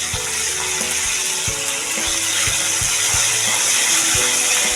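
Ginger garlic paste sizzling steadily in a hot pan while being stirred, a continuous close frying hiss with scraping and clinking touches from the spoon, no voices.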